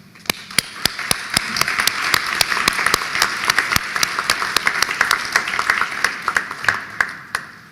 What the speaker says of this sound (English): Please join me in applauding our graduates.